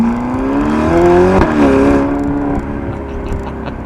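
A 2018 Ferrari GTC4 Lusso T with a 3.9 litre twin-turbo V8 accelerates hard, its engine note climbing steadily through the revs with a brief shift blip before settling into a high, loud whine.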